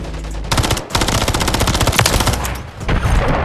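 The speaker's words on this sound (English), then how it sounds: "I'm missing all them shots." Loud, close automatic gunfire from a Call of Duty match, rapid bursts of shots with a brief gap near the start and another near the end.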